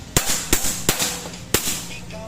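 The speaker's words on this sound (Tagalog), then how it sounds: "Ito yung 4 na putok at ito naman yung 5 sunod-sunod. Yan ang semi-automatic natin" A toy air gun fires in semi-automatic mode, four sharp cracking shots at uneven intervals, close and loud over quiet background noise.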